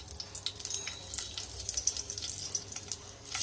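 Stuffed green chillies, filled with fresh coconut, frying in hot oil in a pan, giving a steady soft crackling sizzle with scattered brighter pops throughout, no voices.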